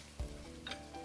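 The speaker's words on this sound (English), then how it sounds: "Now I'm going to add the garlic." Garlic dropped into a hot stir-fry pan with cooked-down vegetables gives a brief soft sizzle, with a faint stir or scrape just after, close and quiet.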